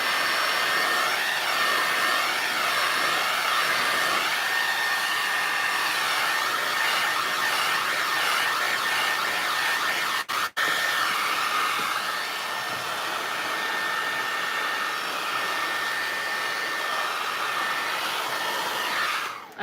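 A hair dryer blows steadily and loudly at close range over a decoupage Easter book, a continuous whooshing hum with one brief cut-out partway through before switching off at the end.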